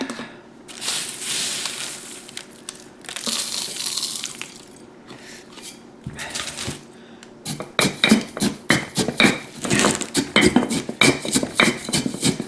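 Dried onion flakes rattle and rustle as they are shaken down inside a container, first a soft continuous hiss, then a quick run of sharp, close shaking bursts.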